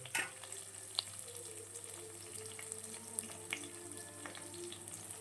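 Vegetables fry in a pan before grated carrot is added for a carrot poriyal, giving a steady, soft, close sizzle with a few faint clicks of the utensils.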